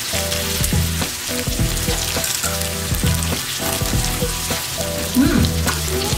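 Egg chips deep-fry in hot oil, a loud, dense, unbroken sizzle and crackle up close, with a faint voice briefly under it.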